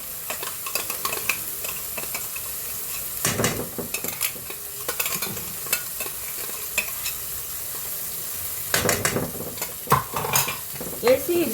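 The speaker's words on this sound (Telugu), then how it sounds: "వేసి ఇది బాగా ఫ్రై చేయాలండి." Ground masala fried in a pan with softened cooked tomatoes, a steady close sizzle broken by repeated scraping stirs and occasional utensil clinks against the pan, with no talking.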